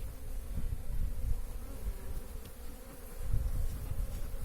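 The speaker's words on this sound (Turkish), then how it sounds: "Arı buraya da gelmiş." Honey bees at an open hive give a dense, continuous buzzing hum, close and steady, rising and falling slightly, with no voices.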